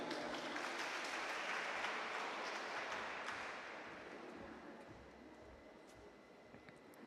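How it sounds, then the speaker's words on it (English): A crowd at a college valedictory ceremony claps loudly and steadily, the applause gradually thinning and fading toward the end. "a big round of applause for the whole family of SFC College"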